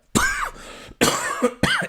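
A person coughs three times in quick succession, close and harsh, with short pauses between.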